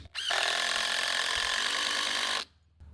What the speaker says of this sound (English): Now we're just going to temporarily screw it into place with a couple screws.